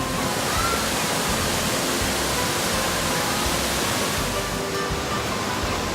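Wave pool at Volcano Bay water park starting its waves: a loud, steady broadband rush of churning, surging water that fills the whole stretch without pause, with no talk.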